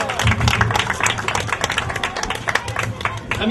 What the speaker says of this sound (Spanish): que se escuche la presencia de los niños y las niñas con un fuerte aplauso de todos ustedes